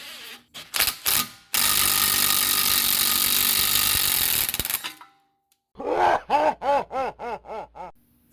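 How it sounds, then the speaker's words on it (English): Impact gun with a 24mm socket removing a ball joint on a 2006 Subaru Impreza WRX: short whirring bursts, a sustained loud hammering run of several seconds, then a series of rapid rhythmic pulses. "get yourself your favorite 24mm socket and impact gun. Put this guy over and just fire"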